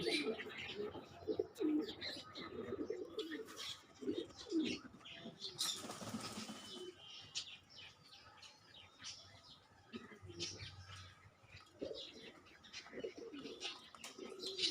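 Large foreign-breed pigeons and their big squabs cooing in a loft, soft repeated coos with chirps and a brief burst of wing flapping, fairly faint and nearby.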